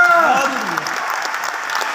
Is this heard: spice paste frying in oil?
no